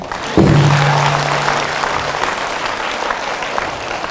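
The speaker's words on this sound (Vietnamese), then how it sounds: "Vỗ tay." Applause from an audience at a Buddhist dharma talk, a burst of clapping that starts suddenly with a brief low tone at the onset, then continues evenly for a few seconds.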